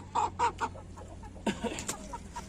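An Aseel hen on a Pakistani poultry farm clucks in a short run of close, soft clucks, several evenly spaced calls followed by a few quieter ones, with no talk.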